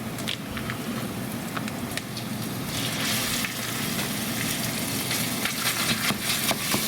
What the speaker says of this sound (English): we're going to put this into our frying pan and brown it up